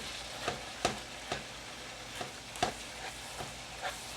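Ground beef with marinara sauce and cauliflower rice is stirred in a skillet, a soft simmering sizzle broken by regular scraping and clacking strokes of a utensil, fairly quiet and close.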